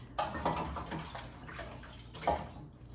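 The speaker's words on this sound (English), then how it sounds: "Wash my hands." Tap water splashing briefly at a kitchen sink while hands are washed, soft and close, in a few uneven gushes.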